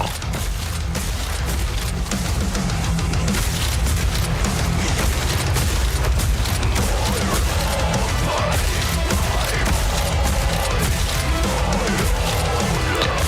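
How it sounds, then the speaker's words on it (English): Crossbow bolts explode repeatedly in the rhythm shooter Metal: Hellsinger, a dense, loud barrage of booms and crashes layered over pounding heavy metal music, sustained throughout. "So how generous is the explosion from the crossbow?"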